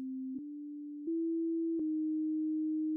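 A pure sine tone played a half step below the major third in a harmony and chord demonstration, held steadily with slight pitch steps and soft clicks at each change, alone and clear.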